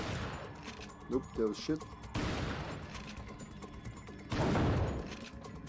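Gunshots from Resident Evil 4 on PS2 crack in short bursts, a cluster of sharp reports followed by heavier blasts later, while someone talks over the shooting.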